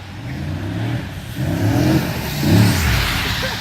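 A Pontiac G6 GXP with a Flowmaster exhaust revs hard, its engine roar swelling in two or three rising surges, loud and close.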